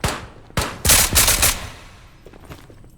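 An M240B machine gun fires in the video game Ghosts of Tabor. Loud, close gunshots come as a short opening pair and then a dense burst, fading into a faint echoing tail.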